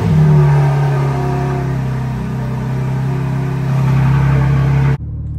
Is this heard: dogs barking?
no